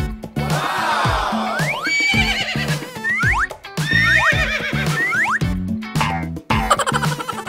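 A toy horse lets out a series of loud, close electronic neighs and whinnies, each a wavering squeal, repeated several times over several seconds with springy boing-like chirps between them.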